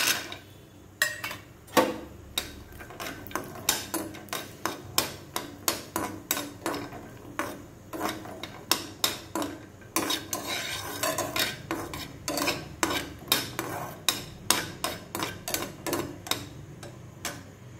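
Cashews dry-roasting in a pan for healthy laddus, stirred with a spoon that clinks and scrapes against the metal in a steady, fairly close rhythm of sharp taps with no talking.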